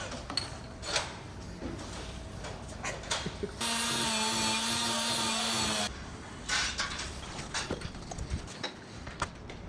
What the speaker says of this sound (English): Just got the 2 tabs fully sanded so that they're at the right angle.